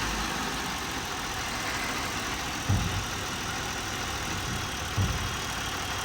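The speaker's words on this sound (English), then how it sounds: "The engine is going to have a more rough idle the more we increase." A 2007-2011 car engine idling roughly as the EGR valve is commanded open, a steady close-up rumble and hiss with two brief stumbling thumps breaking the idle.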